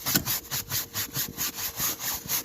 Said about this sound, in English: I take this here and scrub the bejesus out of it